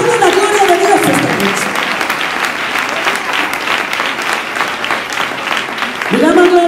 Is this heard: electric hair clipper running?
no